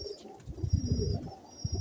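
Teddy pigeon, an old breeding bird, cooing in low, soft murmuring bursts close by, with a faint steady high whine in the background.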